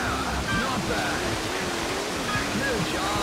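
A small waterfall in Wave Race Blue Storm sends out a dense, continuous rush of splashing water, loud and steady, with a voice faintly audible beneath it.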